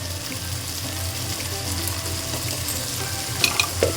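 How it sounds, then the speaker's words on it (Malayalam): Ginger garlic paste frying in hot oil in a pan, a steady close sizzle with faint stirring clinks near the end, no voices. "കുറച്ച് ജിഞ്ചർ ഗാർലിക് പേസ്റ്റ് ഇട്ട് കൊടുക്കാം."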